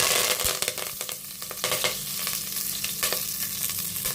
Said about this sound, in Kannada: ಆಯಿಲ್ ಹೀಟ್ ಆಗಿದೆ, ಸಾಸಿವೆ ಹಾಕೊಳ್ಳೋಣ. ಸಾಸಿವೆ ಸಿಡಿತಾ ಇದೆ ನೋಡಿ. ಕರಿಬೇವು ಹಾಕೊಳ್ಳೋಣ.